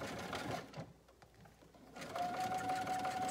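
A domestic sewing machine runs a zigzag top stitch along a pressed seam allowance, a steady close whirring hum that briefly slows and dips before surging back at full speed to the end.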